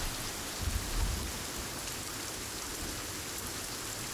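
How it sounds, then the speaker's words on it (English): Steady rain falls in the survival video game Sons of the Forest, a constant soft hiss of drops on surfaces with a faint low rumble early on, and no voices. "hearing the rain and it getting dark is making me kind of cold."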